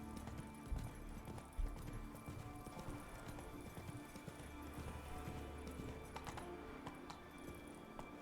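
Roach the horse gallops in The Witcher 3, a steady rapid drum of hoofbeats running throughout under a busy game background, fairly quiet and unbroken.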